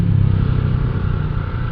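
Restored limited-edition Honda motorcycle with a chain drive, its engine running steadily up close with a low, even idle rumble throughout and no rise in pitch.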